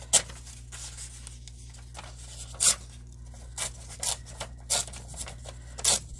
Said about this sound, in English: Don't know why I'm tearing that edge